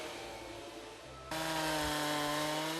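A chainsaw trims branches from felled trees at a logging site in the Russian Far East forest. The engine drones continuously and close, then revs up sharply partway through and holds a louder, higher whine.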